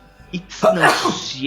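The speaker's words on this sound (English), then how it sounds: "Second time I sneezed during the intro." A single sneeze breaks out during a fantasy tabletop role-playing game session, a sharp burst of breath under and between narration, with people talking around it.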